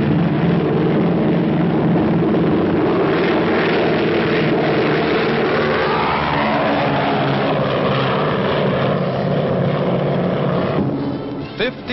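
A Douglas DC-6 propeller airliner roars with a loud, continuous droning engine and propeller noise, steady throughout on an old muffled newsreel recording.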